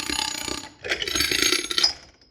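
A vacuum toilet from a Swedish U-boat, still in use in 1974, cycles with a rough mechanical rattle and gurgling, snorting rush in two bursts, ending in a thin fading whine, close by.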